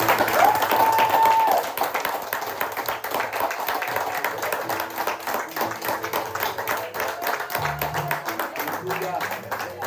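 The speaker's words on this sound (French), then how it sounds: "Je voudrais qu'on acclame le Seigneur, qu'on acclame le Seigneur, qu'on acclame le Seigneur" A church congregation claps and applauds together, a dense, sustained burst of many hands that goes on throughout, with a voice ringing out at the start and a low voice heard near the end.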